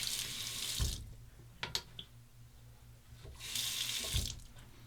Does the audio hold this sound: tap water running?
yes